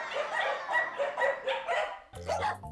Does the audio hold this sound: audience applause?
no